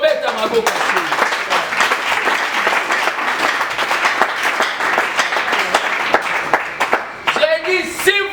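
A crowd at a political rally claps hands in sustained, dense applause, loud and close, while a voice speaks over it at the start and end.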